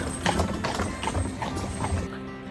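Horse hooves clip-clop on a narrow, busy road in Ireland, a few hoof strikes repeating in a steady walking rhythm against a continuous ambient background.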